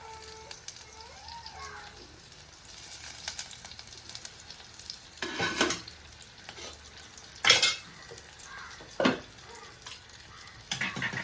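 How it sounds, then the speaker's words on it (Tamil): Hot oil sizzles steadily in a pan as fish fries, with occasional louder bursts of crackling and a few metallic scrapes as food is stirred. "சரி எண்ணெய் கொதிக்குது இது வந்து போடுவோம்"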